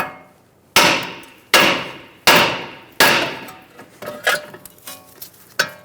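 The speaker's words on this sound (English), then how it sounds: "Using a hammer, we're going to hit around the knuckle near the ball joint and release the tension" Hammer striking the steel steering knuckle near the ball joint of a 2007-2011 Toyota Camry, four loud ringing metallic blows at an even pace followed by several lighter taps, close and without talk.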